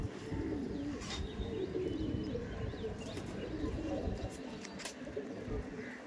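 Madrasi pigeons, a flying breed offered for sale, coo steadily close by with a few chirps over a busy, continuous background hum of people and activity.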